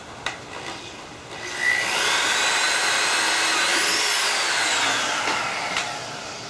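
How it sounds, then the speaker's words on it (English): Power drill driving a screw into a homemade airsoft riot shield, a steady whirring drone lasting several seconds after a brief start, close and loud with a rising pitch toward the end before slowing. "I'm tightening this one screw down just to help keep this whole thing from moving around."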